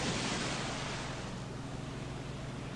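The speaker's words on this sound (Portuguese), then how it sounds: "Logo atrás vai ficando o mar, um pouco mais distante, e o som cada vez mais distante" Ocean surf rolling onto a shore, a steady broad wash of breaking waves that stays continuous and gradually softens as if receding into the distance.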